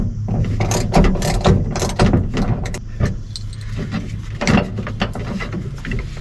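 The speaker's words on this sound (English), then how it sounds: "I'm putting the old bolt in the new bracket" Ratchet clicking while an old bolt is tightened into a new seat belt bracket in a C10 pickup, a close, busy run of short mechanical clicks and metallic rattles that stays steady throughout.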